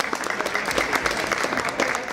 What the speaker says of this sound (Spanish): Muchas felicidades, un fuerte aplauso.